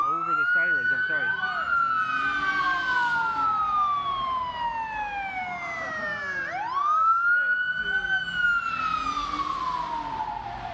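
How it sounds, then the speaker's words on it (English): Emergency vehicle sirens wail in the street, loud overlapping rising and falling tones sweeping continuously, with a second siren layered over the first and traffic rumbling underneath. "I can't hear you over the sirens"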